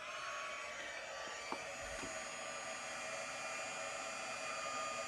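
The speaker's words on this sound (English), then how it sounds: "let me get my heat gun going here." A heat gun used to melt embossing powder on a handmade card runs as a steady, airy blowing hiss with a faint whine. It stays constant throughout, with a couple of soft clicks near the start.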